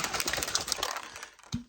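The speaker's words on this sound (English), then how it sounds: "Get the lid on. Give it a shake" An energy drink shaker bottle shaken by hand, a quick run of rapid rattling clicks and sloshes, close and fairly loud, stopping after about a second with one final knock.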